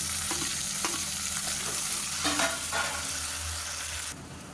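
Onions and tomatoes fry and sizzle steadily in a pan while a utensil stirs them with a few scraping strokes, close up, with no talking.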